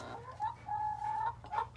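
Chickens cluck softly alongside guinea fowl at night in a coop, a few faint drawn-out clucks and calls close by, with no talk.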